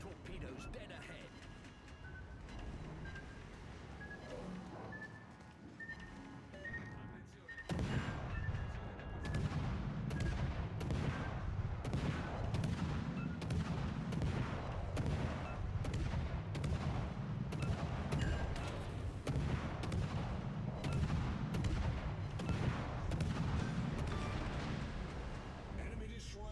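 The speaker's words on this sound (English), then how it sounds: "Enemy destroyer blown up." Naval gunfire and an exploding enemy destroyer in the World of Warships: Legends video game, heard as dense, continuous rumbling booms and blasts that grow louder after a quieter opening, with a voice talking throughout.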